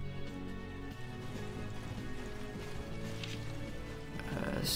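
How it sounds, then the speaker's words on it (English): Rain falls in Mount & Blade: Warband with the Brytenwalda mod, a faint, even patter that runs throughout, with low game rumble and a few soft clopping sounds mixed in. "Oh, it's raining."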